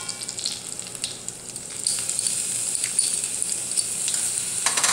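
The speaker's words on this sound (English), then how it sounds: "And I'm adding my cashews. And to this, I'm going to add" Garlic and cashews sizzle and fry in a hot pan, a steady bright crackling hiss that grows denser partway through, with occasional stirring and no talking.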